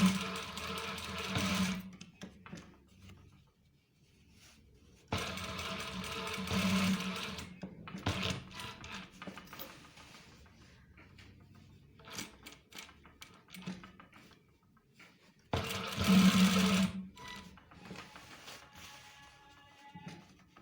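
A sewing machine stitches the trousers of a police uniform in three loud bursts of rapid mechanical clatter, separated by quieter pauses with handling noise and light tapping.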